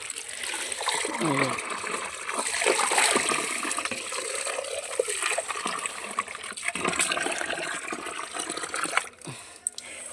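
Strongly flowing water, a continuous rushing splash with gurgling and trickling textures, close and fairly loud, with some voices briefly audible underneath.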